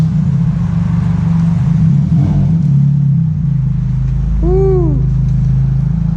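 A 2007 Nissan Sentra SE-R with a loud aftermarket exhaust roars and revs as it accelerates hard, a steady rumble rising in pitch near the end, with a brief shout over it outdoors.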